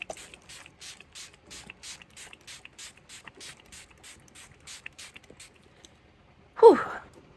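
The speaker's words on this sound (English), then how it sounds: "So now I'm just gonna spray my face." A rapid series of short pump-spray mists of makeup primer onto a face repeats in an even rhythm, close by, followed by a sharp exhale.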